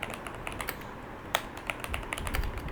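Keyboard keys tapped in quick irregular bursts while typing a chat message, light close clicks over faint background hiss with no speech.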